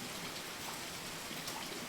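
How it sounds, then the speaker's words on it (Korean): Steady rain falls without a break, a soft, even hiss of drops spread across the whole clip, quiet and unbroken, with no voices or thunder. "내 울음같이 훌쩍이는 빗소리야"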